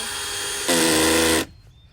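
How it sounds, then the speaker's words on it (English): A power drill whirs loudly for under a second while boring a hole in a paddle boat, then cuts off abruptly, leaving quiet background. "We're going to drill a hole."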